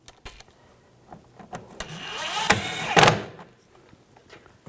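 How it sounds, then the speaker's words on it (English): Trim screws are snugged into a GMC Sierra inner fender liner: a few light clicks, then a short whirring spin of a driver lasting about a second with a sharper burst at the end, close by and alone. "And the trim screws, put those in."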